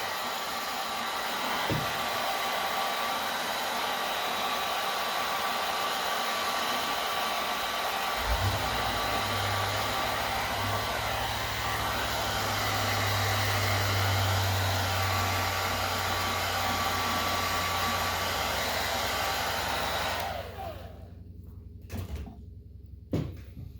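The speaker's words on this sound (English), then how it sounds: "Maybe hit it with a blow dryer." A blow dryer, used on 3D-printed PLA parts, runs with a steady, loud whirring hum for about twenty seconds, then cuts off, leaving a few faint clicks and knocks.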